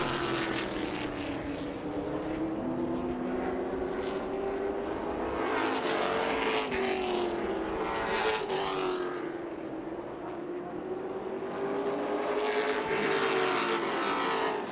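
Race car engines at Southern National Motorsports Park drone and whine continuously as cars circle the track. The pitch rises and falls as they pass, loud and sustained, with no talk.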